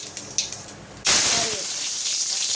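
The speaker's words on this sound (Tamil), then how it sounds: "நெய் சூடாயிருச்சு. கொஞ்சோண்டு கடுகு, கொஞ்சோண்டு சீரகம்," Mustard seeds and cumin drop into hot ghee and burst into a sudden loud sizzle that carries on steadily and near, after a second of quieter tapping and clinks beforehand.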